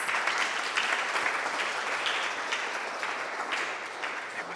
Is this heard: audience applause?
yes